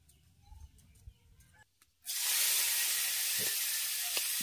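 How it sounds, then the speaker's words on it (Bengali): Prawns dropped into hot mustard oil with salt and turmeric burst into a loud, steady, close sizzle partway through, after a quiet, faint stretch before it. "এই চিংড়ি মাছটাকে লবণ আর হলুদ দিয়ে ভেজে নেব।"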